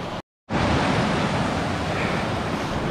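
Deep, fast-flowing creek water in the Kananaskis wilderness rushes in a loud, steady broadband roar, broken by a brief silent gap near the start.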